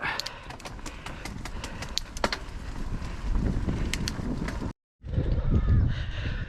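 Steady wind rushes and buffets against the microphone while cycling on countryside bridleways, with faint clicks and rattles underneath and a brief moment of silence near the end.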